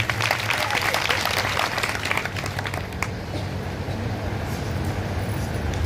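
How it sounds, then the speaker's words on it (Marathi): Loud, sustained applause from an audience for the musicians at a devotional gathering in Ujjain, a dense wash of clapping that fills the whole stretch without pause. "संगीतकारांच्या नावानं जोरदार टाळ्या वाजल्या."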